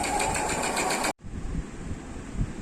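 Sewing machine run by a tailor, a fast steady mechanical whirring that cuts off abruptly, followed by a quieter low rumble, close and loud with no talk.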